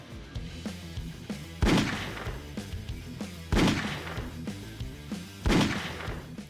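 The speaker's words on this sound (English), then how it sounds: "the menu select sound is literally a gunshot" Three heavy gunshot blasts used as a video game menu select sound, evenly spaced about two seconds apart, each a sharp booming crack with a short decaying tail over faint background music.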